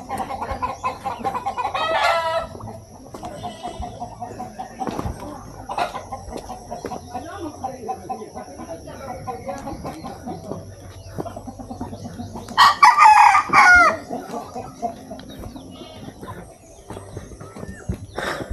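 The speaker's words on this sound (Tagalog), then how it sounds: "Daghan manok." Native chickens cluck at a mountain trailhead near Toril, Davao City, with a loud rooster crow partway through and scattered clucks and bird calls, while people talk nearby.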